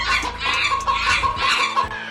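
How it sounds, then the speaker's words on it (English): A chicken clucking sound effect played from a soundboard, a run of loud, close, repeated clucks and squawks filling the short clip with no talking. "the soundboard is labeled in alphabetical order, and chicken and chimp are right next to each other"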